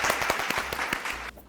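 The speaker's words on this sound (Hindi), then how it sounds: "रिचा जी के लिए तालियां" A studio audience on a TV show claps for a guest named Richa, a short, faint burst of scattered hand claps that cuts off abruptly.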